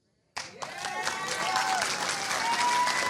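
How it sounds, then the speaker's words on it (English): Audience at a Dallas Jewish Conservatives event bursts into applause for Chris Salcedo and Mark Meckler, starting suddenly after silence and swelling into sustained, dense clapping with some crowd noise, fairly close. "Let's give another big round of applause to Chris Salcedo and Mark Meckler."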